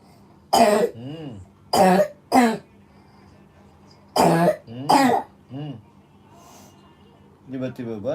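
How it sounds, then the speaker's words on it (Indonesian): Harsh coughs come in short clusters, two or three at a time with pauses between, close and fairly loud against a quiet background. "Tiba-tiba batuk lagi."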